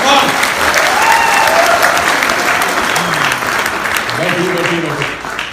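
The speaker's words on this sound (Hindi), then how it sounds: "तो जोरदार तालियां होनी चाहिए, जोरदार।" Loud, sustained applause from an audience at a training session in a Radisson hotel hall in Faridabad, dense and close, with voices calling and talking over the clapping.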